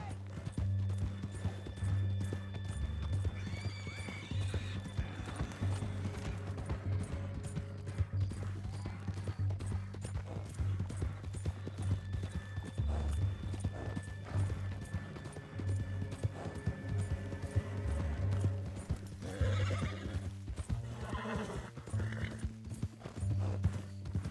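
Horse hooves clip-clopping steadily along in Red Dead Redemption 2, with occasional neighs and soft in-game sounds over a low ambient bed.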